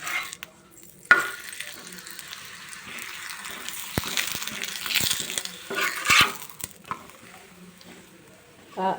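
A chapati roasting on a hot pan with a spoonful of oil gives a soft, steady sizzle, broken by scraping stirs and a few sharp clinks of a utensil against the pan, close by.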